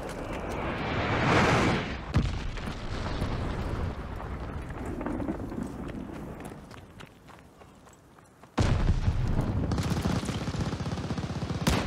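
Explosive blasts and a heavy impact from a glide bomb strike in the Call of Duty Vanguard multiplayer game, with scattered gunfire and footsteps in between and a loud sustained rumble near the end.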